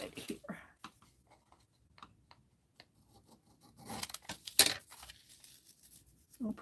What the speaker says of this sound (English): Oh, let's cut it here.